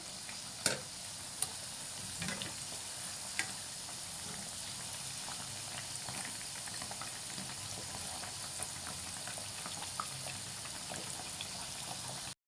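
Honey buns fry steadily in a pan of oil, giving a continuous soft sizzle and bubbling with occasional clinks and pops, fairly quiet and without talking.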